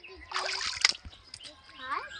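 Sweet leaves being washed by hand in water, with bursts of splashing and sloshing and a few sharper splatters. A voice is faintly heard in the background.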